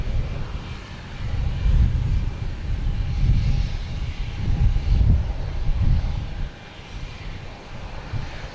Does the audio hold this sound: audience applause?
no